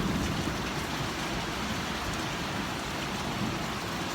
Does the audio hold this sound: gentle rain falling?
yes